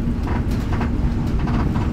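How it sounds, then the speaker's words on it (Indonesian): Another train passes alongside a moving 1964 executive-class railway carriage, heard from inside as a loud, steady rumble with a rhythmic clatter of wheels, and no voices. "ini papasan dengan kereta api apa ini?"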